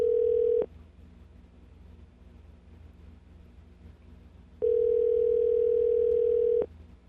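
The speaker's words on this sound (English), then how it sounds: "let's see what happens. It's ringing." A ringback tone on an outgoing telephone call to a Baltimore number: two long, steady electronic rings, each lasting about two seconds, separated by a stretch of quiet line hiss.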